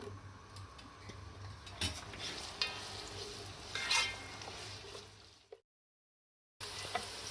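Two chopped onions fry in half a cup of oil for masala bhindi, a steady soft sizzle with occasional stirring clicks and scrapes, briefly cutting to silence before the sizzle returns.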